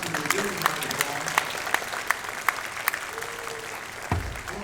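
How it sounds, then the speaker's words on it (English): A university welcome audience claps for board members: steady scattered hand claps at moderate level, then a brief low thump near the end, over faint background murmur. "Give them a round of applause."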